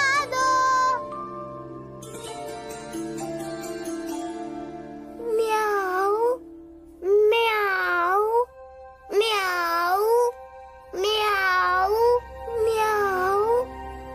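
A kitten meows inside a house, five or six drawn-out, wavering cries in a row, loud and close, following a stretch of tinkling music.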